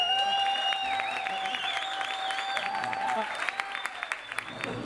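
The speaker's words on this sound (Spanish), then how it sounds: "espero respondan con un aplauso bien hijueputa" A full house applauds a live comedy show, thick sustained clapping with cheering and whistling voices over it, thinning toward the end.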